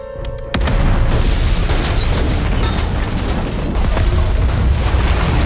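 Bomb exploding inside a van: a sudden loud boom followed by a sustained roaring rumble that fills the whole stretch, close and heavy with no voices.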